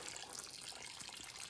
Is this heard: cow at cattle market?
no